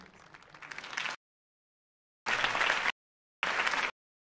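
Applause bursts from a crowd in the Batman Telltale Series video game, arriving as three separate rushes of clapping broken by silent gaps, one long and two shorter.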